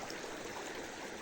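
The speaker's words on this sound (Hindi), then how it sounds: "अभी मैं आपको पानी का नज़ारा करवाता हूँ। ये साफ शफाफ पानी, इसमें आप नहा भी सकते हैं" Clear mountain water in the Urak Valley near Quetta rushes steadily in a stream, a continuous broadband hiss and gurgle heard alone at moderate distance without any talk.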